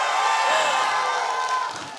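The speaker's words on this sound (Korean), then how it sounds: "날씨만큼이나 너무 시원한 박수 함성 소리입니다" Outdoor concert audience on a cool day in Samcheok, a broad wash of applause and cheering rolling steadily and loud for the whole stretch, easing slightly at the end, no talk over it.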